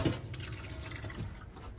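Water runs from an opened tap in a home hot water system fed by a boiler and pump, making a soft, steady rushing and splashing sound that stays fairly quiet and continuous.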